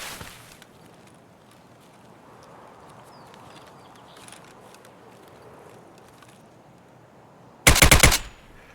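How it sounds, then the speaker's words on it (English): An M4 rifle fires full auto in the shooter game Escape from Tarkov, loading poor ammunition. Quiet ambience runs for several seconds, then one short, loud burst of rapid shots comes near the end. "That's what a full auto M4 would look like approximately with this setup."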